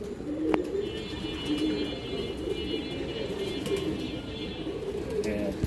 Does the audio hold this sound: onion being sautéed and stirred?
no